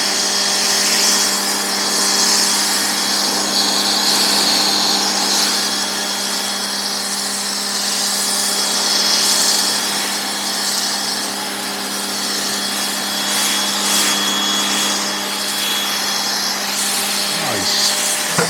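Ryobi 1800 PSI electric pressure washer spraying through an MJJC foam cannon, a loud continuous hiss and motor whine holding steady throughout without breaks.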